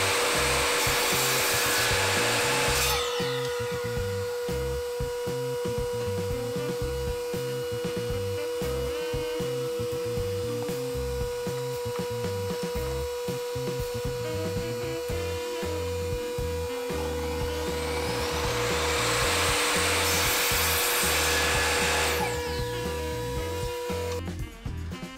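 A saw cutting small wooden pieces for a bunny-shaped Easter basket, with a loud whirring blade bite at the start and again near the end and a steady motor hum between, close, with no talking.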